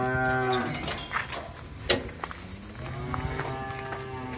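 Cows low repeatedly on a breeding cattle farm in Vinh Long, long resonant moos rising and falling, fairly close, with faint shuffling and farmyard background between calls and no talk.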